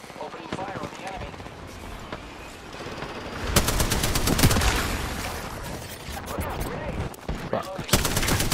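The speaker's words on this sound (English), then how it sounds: "Opening fire on the enemy." Gunfire rattles in a team video game as bursts of rapid automatic shots and scattered single cracks come and go. The shooting grows denser and louder toward the middle, with voices talking underneath.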